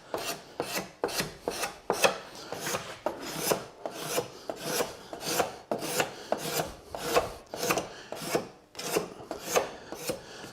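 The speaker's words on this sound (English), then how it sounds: "then you could file and even card scrape if I got a good edge on this" A file rasps across a carved spiral seashell in steady back-and-forth strokes, about twenty close, even passes with a dry scraping texture and no talk.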